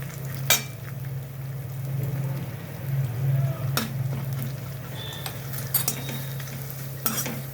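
Turmeric powder is stirred into vegetables frying in a pan with ginger paste, green chili paste and dried chilies, giving a steady close sizzle broken by a few sharp utensil scrapes and taps against the pan.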